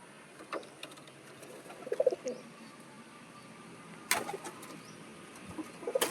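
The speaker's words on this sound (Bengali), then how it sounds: "দেখো কতগুলো পায়রা আমাদের বেরোনোর জন্য সব ছটফট করছে" Pigeons in their coop before release on a rooftop give soft, scattered coos and a few low calls, faint against quiet background noise, with a couple of louder rustling bursts.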